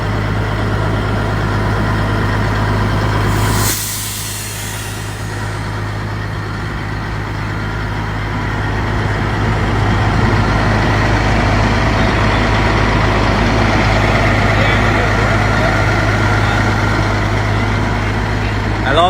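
A fully restored 1986 Kenworth K100 cabover truck with a Cat engine idles nearby in a steady, deep, humming drone, with a brief sharp noise early on and people talking over it.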